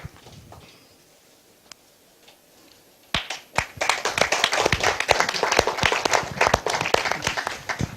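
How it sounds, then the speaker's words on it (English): Applause from a seminar audience begins after a quiet stretch of a few scattered taps, then swells into loud, sustained clapping from many hands that continues to the end. "A loud applause"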